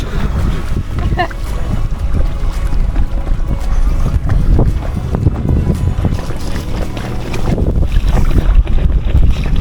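Kayak paddling on the Odesa estuary near an oyster farm, with steady water and wind noise close to the microphone and people talking over it.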